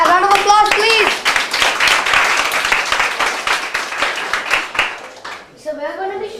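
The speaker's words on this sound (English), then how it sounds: "A round of applause, please." Loud clapping from a school audience fills most of the moment, with voices over it at the start and again at the end as the applause fades.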